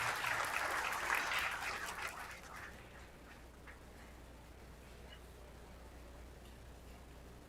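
A crowd at a Las Vegas pool match bursts into a loud swell of applause and cheering, which fades over a few seconds to a quiet hall murmur.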